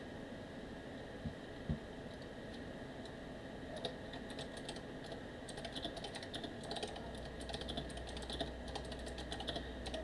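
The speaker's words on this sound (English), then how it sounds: "I'm going to type it in the chat just in case" Typing on a computer keyboard, light irregular clicks that begin sparsely and grow into a busier patter over a low room hum.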